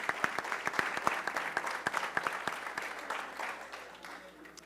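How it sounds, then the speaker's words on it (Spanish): Welcoming applause from an audience at a tourism and meetings industry panel, scattered distinct claps fairly quiet and somewhat distant, thinning out toward the end. "Le vamos a dar un aplauso de bienvenida"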